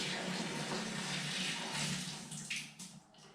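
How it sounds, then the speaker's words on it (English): Water pours steadily from a kettle into a can, with a rushing, splashing flow that tapers off and breaks into a few final trickles. "What's left in that kettle, I'll pour it in here."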